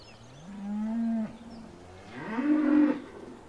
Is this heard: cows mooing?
yes